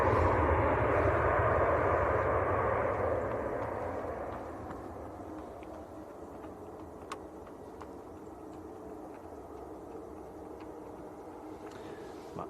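An airliner lands at Manchester Airport, its loud engine roar and rushing rumble fading over several seconds into a quieter distant drone outdoors, with a few faint clicks near the end.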